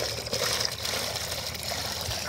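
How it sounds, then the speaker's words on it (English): Water streams steadily into a goats' water container, a continuous splashing trickle close by with no talking. "I'm getting the little water filled up for the little goats"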